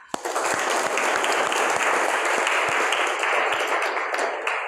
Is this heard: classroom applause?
yes